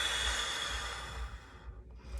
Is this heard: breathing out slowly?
yes